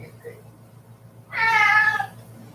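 A house cat lets out a single loud, drawn-out meow near the microphone after a quiet stretch with faint background hum.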